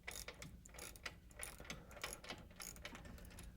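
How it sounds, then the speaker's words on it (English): Ratchet backing off U-bolt nuts on a Chevy S10 pickup, a fast continuous train of sharp pawl clicks, close and steady throughout, no talking. "the first thing we need to do is pull the stock shocks, as well as the 4 nuts on the U-bolts"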